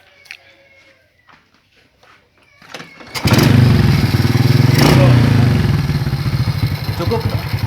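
A Honda Karisma motorcycle with a fault that makes it stall suddenly is started after a few quiet clicks and then runs with a loud, steady idle close by.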